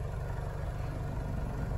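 A stock inline-four car engine with its factory exhaust idles in a steady, even drone for a couple of seconds, close by and moderately loud, with no talking.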